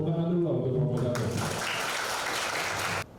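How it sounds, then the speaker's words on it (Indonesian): An audience applauds a composer, a burst of clapping from a small crowd that swells after a short spoken line and cuts off abruptly. "tepuk tangan dulu untuk komposator"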